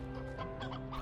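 Hens clucking in the Slime Rancher video game, several close, overlapping cackles filling a brief moment against a steady game backdrop.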